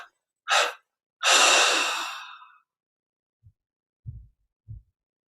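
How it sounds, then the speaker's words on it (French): A deep breath drawn in during guided meditation, then let out in three separate exhalations: one long sighing release followed by two short, soft puffs, close and alone in a quiet room. "Puis on prend une inspiration profonde. Expire en 3 fois."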